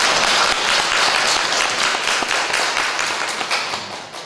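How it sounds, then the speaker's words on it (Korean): Church congregation applauding together, a loud, dense burst of many hands clapping that holds steady and then gradually tapers toward the end. "다시 한번 박수 한번 드릴까요?"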